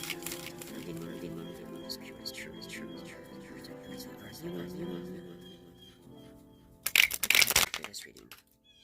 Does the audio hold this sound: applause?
no